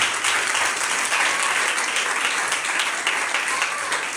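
A church congregation claps and applauds together during a service, a dense, steady wash of clapping that holds loud and even for a few seconds, with faint voices mixed in.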